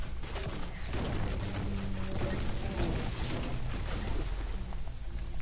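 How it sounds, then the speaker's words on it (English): Trees being smashed apart in Fortnite, a dense run of loud crunching, cracking and mechanical impact noises going on continuously for several seconds. "I'm gonna destroy some trees so we get a sight line."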